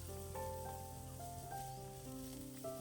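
Onions and carrot sauté in a pan for oats upma, a low, even sizzle under soft melodic background music.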